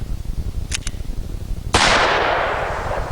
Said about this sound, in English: Now let's try our single action Super Blackhawk.